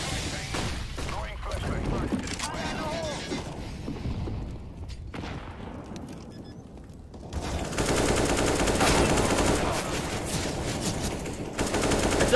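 Sustained automatic gunfire in CS:GO, dense and loud through most of the stretch, swelling heavier in the second half, with voices mixed in.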